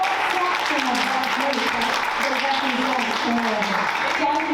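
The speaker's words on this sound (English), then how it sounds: "I want us all to applaud the design and implementation" Audience applause at a community convening for a parents' program, broadband clapping sustained throughout at steady loudness, with voices audible beneath the clapping.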